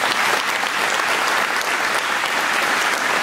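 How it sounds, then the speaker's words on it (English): Audience at a Sun 'n Fun mayor's breakfast applauding, a dense, loud, steady burst of clapping from a crowd, sustained throughout without pause. "Can I give these guys a round of applause?"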